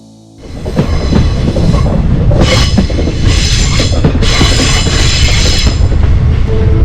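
Punalur–Tenkasi passenger train running on century-old rails through the Western Ghats, a loud, steady rumble and rattle of carriages with rhythmic wheel clatter and bursts of high wheel squeal, heard from onboard with no talking.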